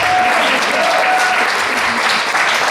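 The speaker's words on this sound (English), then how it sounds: "Thanks for cheering." A live audience at a spoken presentation claps and cheers continuously, a dense, loud wash of applause throughout with no voice over it.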